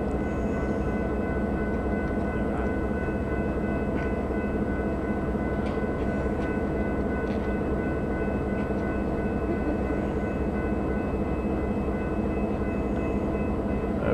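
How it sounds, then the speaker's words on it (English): A 1950s-era Canadian Pacific locomotive at Rouses Point, heard as a loud steady diesel rumble with a constant drone and faint metallic clanks, idling close by with no talking. "Everybody waiting for that train to move, including the traffic on Pratt Street."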